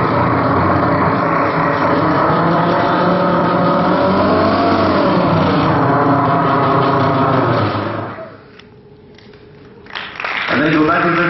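A voice imitates the engine of a Volvo multi-axle bus, giving a loud, steady, growling drone that holds for about eight seconds, then drops away and returns briefly at the end.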